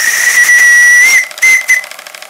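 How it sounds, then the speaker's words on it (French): A steam whistle on a steam launch's boiler shrieks in a loud, close, high-pitched blast, then a second shorter toot amid hissing steam. "On trouve sur la chapelle de la chaudière une vanne qui est une vanne d'ouverture de la vapeur pour le sifflet"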